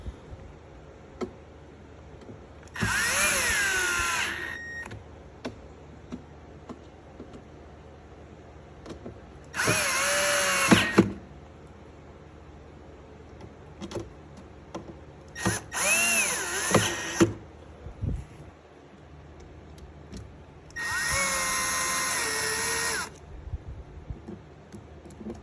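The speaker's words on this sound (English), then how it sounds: "So putting the screws back on, back panel." Power driver running screws into the back panel of a Marshall DSL 40C amp, four separate whirring bursts of about two seconds each with quiet pauses between, close and clear.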